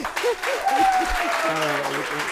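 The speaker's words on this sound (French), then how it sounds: "applaudissez pour elle" An audience at a women's gathering in Agboville, Agnéby-Tiassa, applauds in a steady wash of clapping while voices talk over it throughout.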